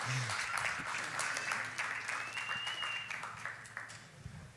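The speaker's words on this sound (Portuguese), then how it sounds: "vamos aplaudir a vida do Bruno" A church audience applauds together, a steady wash of clapping at moderate distance that slowly fades, with a faint voice and a brief tone in the background.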